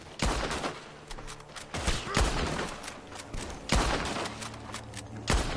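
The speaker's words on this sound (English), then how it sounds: "Gunshots are coming from that barn." Bursts of video game gunfire crack repeatedly from a barn, sharp shots arriving in quick volleys with brief gaps between them.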